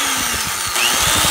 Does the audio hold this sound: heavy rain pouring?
no